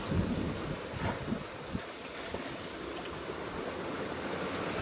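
Steady wind rushes across the microphone while water washes and splashes along the hull of the sailboat Triteia under sail, a continuous broad roar with a few small knocks.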